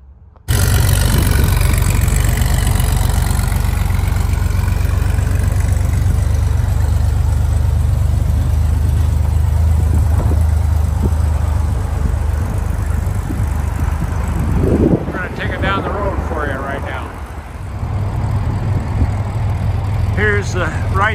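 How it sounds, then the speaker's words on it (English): A 1961 Chevrolet Corvair 95 pickup with a six-cylinder pancake engine and Powerglide transmission idles steadily and loud up close, a low even drone for the whole stretch, with brief talk near the end. "This is a Corvair six-cylinder pancake engine, and it's got a powerglide transmission in it"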